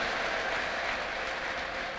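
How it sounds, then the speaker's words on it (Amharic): A church congregation claps together in praise, producing a steady, dense patter of many hands that fills the room for a couple of seconds. "ኢየሱስ ክርስቶስን በጭብጨባ አክብሩት"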